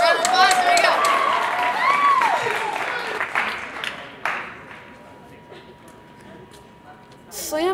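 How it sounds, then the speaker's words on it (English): Audience applause for a slam poet at a poetry reading, a dense crowd clapping loud at first and then thinning and fading, with a murmur of voices mixed in. "Round of applause, there you go."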